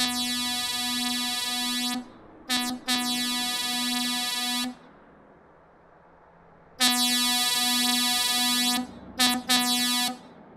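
Loud, blaring truck horn blasts in American Truck Simulator with a buzzy electronic tone, sounding in long holds and short bursts, separated by quiet pauses.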